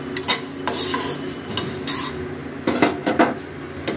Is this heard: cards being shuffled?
no